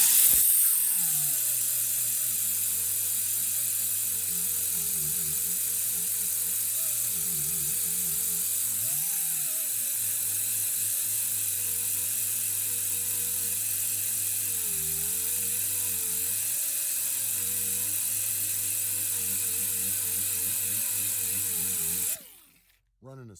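A Chicago Pneumatic angle grinder fitted with an arbor polishes metal in small circular patterns, giving a steady, close, high-pitched whine whose tone wavers slightly as pressure shifts, running alone until it cuts off near the end.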